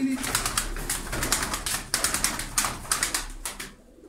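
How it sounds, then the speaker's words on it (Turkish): Tumbler pigeons flap and flutter close by in a loft, bursts of wingbeats and soft cooing under someone talking nearby. "Şimdi elimde 13 tane güvercin var."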